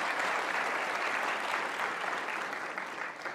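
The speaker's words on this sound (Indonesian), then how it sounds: "Sekali lagi kasih tepuk tangan dong untuk Mas Wanggi." A studio audience on an Indonesian talk show applauds a mime performer, dense and even clapping from a crowd that stays loud for a few seconds and fades a little at the end, with no voices over it.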